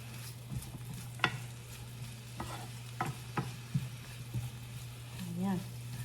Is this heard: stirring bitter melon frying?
yes